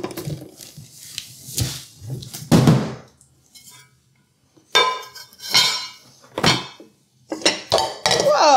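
Pink Velosan ceramic non-stick pans and lids clank and clink as they are unpacked, giving a run of close, sharp bursts of knocking cookware separated by short pauses.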